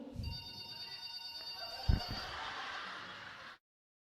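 A mobile phone ringtone sounds steadily for a few seconds indoors, a tonal repeating ring with a brief thump partway through, then cuts off abruptly.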